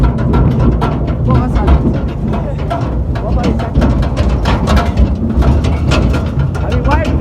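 Rattling, droning ride aboard a moving tractor on a rural road in Nepal, with steady loud mechanical clatter and low engine rumble throughout.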